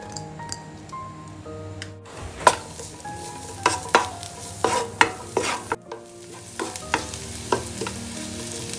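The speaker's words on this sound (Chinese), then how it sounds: "这次我们先炒小葱。" Scallions stir-fry in oil for a radish cake dish, a continuous sizzle broken by repeated scraping strokes of a spatula against the pan, close and fairly loud, with no talking.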